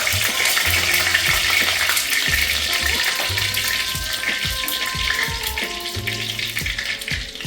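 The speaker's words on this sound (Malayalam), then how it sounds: "എണ്ണ ചൂടായി വന്നിട്ടുണ്ട്. ആദ്യമേ തന്നെ ഇതിൻ്റെ അകത്തേക്ക് ഒരു തണ്ട് കറിവേപ്പില കൊടുക്കാം." Curry leaves hit hot coconut oil in a clay pot, giving a continuous crackling sizzle with scattered pops and spits throughout, close and fairly loud.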